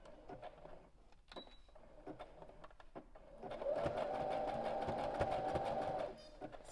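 A sewing machine runs a steady burst of stitching on a fabric scrunchie, starting after a few quiet seconds of light handling noise and humming evenly for about three seconds before stopping.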